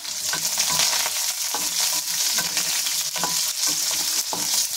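Onions and curry leaves fry and sizzle steadily in a hot pan for onion-coconut tamarind chutney, with a continuous hiss broken by irregular stirring scrapes, close and fairly loud, no talking.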